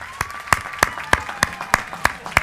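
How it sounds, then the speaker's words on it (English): Applause for graduates at a university spring commencement comes through as crisp, evenly spaced claps in a steady rhythm, distinct and close, with a faint sustained tone lingering behind them. "give yourselves a gigantic round of applause for making it here"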